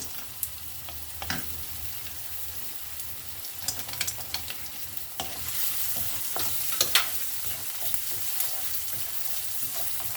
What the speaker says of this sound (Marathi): आणि कांदा लवकर तेलावर परतला जावा गुलाबी रंग यावा आणि शिजला जावा